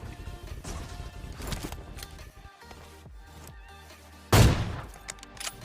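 Gunfire in the PUBG Mobile battle royale game, with a loud sharp shot burst near the end standing out from busy in-game clatter and scattered softer shots earlier, no talking.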